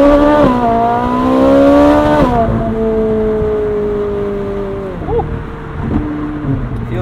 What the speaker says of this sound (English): the sound is engrossing. It's really just a fantastically designed tune to that exhaust note